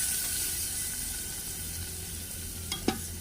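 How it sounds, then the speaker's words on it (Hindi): Cumin seeds sizzle in a little hot oil for a tadka tempering, a steady close crackling hiss with a couple of faint clinks near the end. "ये हमने थोड़े से तेल में ज़ीरा डाल के इसको तड़का लगाया।"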